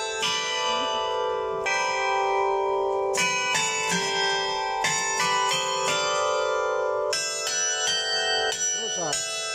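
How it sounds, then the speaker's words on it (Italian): Church bells ring repeatedly in an uneven pattern in a town square in Piedimonte San Germano, each strike ringing out with a long resonant tone, loud and close, with voices faintly underneath. "Suona le campane fino alla festa della Befana."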